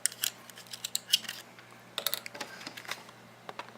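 A 1 inch paper punch snaps through cardstock with several sharp, close clicks and crunches in an irregular rhythm, separated by faint handling noise.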